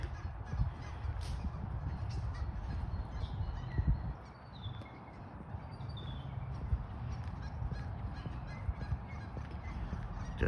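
Ducks call in scattered honks at a rainy, overcast outdoor spot in the Pacific Northwest, heard at moderate distance over steady rain and ambient background noise.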